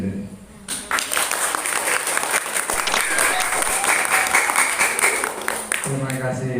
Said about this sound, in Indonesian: Tepuk tangan yang meriah untuk teman kita yang berprestasi.